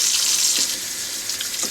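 Tap water runs steadily into a sink while honeysuckle flowers are washed for orange honeysuckle jelly, a continuous close hiss with faint splashes and no talking.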